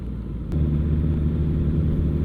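A deep, steady engine rumble from a group of motorcycles swells in after a brief click and holds low and continuous, the bikes idling nearby.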